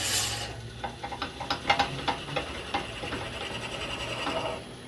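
A drill bit, waxed to run smoother, bores into very dense timber for a turned carving mallet, producing a series of rasping, scraping bursts that rise and fade in an uneven rhythm.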